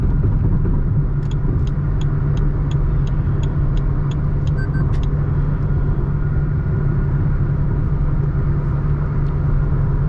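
Toyota Taisor manual car cruising on a highway at a steady 2850 RPM, a constant loud low engine and road rumble throughout with a faint series of regular ticks early on.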